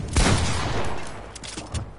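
Flintlock pistol shots in a video game, a couple of sharp booming reports near the start and another toward the end, with a rumbling tail, no talk over them.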